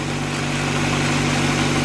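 A warming Acura Integra engine idles steadily up close, a constant loud hum with a firm low-pitched drone and no changes in pace.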